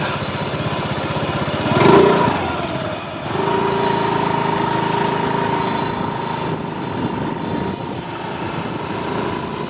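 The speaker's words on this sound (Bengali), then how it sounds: "তারপর স্কুটারে উঠে বসতেই জোরে চালিয়ে দিল স্কুটারটা।" A scooter engine runs steadily and loud, with a short surge of revving early on, then a sustained buzzing drone as it speeds away, part of a horror story sound effect.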